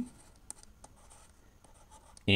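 Chalk or marker strokes on a board while writing out set notation for a math lesson: a quiet run of short, scratchy taps and drags, ending in a louder bump.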